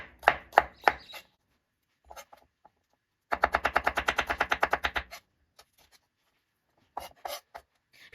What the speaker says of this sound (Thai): หอมแดงก็ประมาณนี้แล้วก็กระเทียม เรา ก็หั่นเป็นแว่นๆแบบนี้